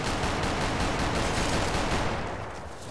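Sustained rapid gunfire from a modded weapon in Fallout New Vegas, dense and continuous bursts filling the whole stretch, loud and close, tapering slightly near the end with no talking.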